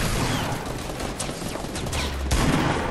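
Fireworks bursting in the air at an event, a dense rolling crackle of overlapping pops and bangs with a few sharper reports, continuous and fairly loud at a moderate distance.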